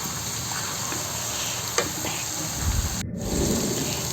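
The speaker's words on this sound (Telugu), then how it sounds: "దాన్ని ఇప్పుడు శుభ్రంగా ఆయిల్లో వేసి వేయించుకోవాలి." Ginger, garlic, green chili, cumin and salt paste frying in oil with onions, a steady close sizzle with stirring scrapes, briefly interrupted and then continuing with added bubbling.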